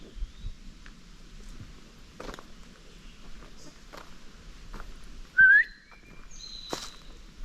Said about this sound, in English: That was me whistling.